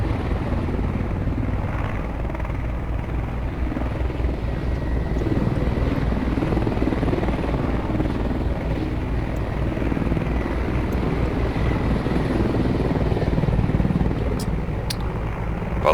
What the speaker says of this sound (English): let's follow the helicopter in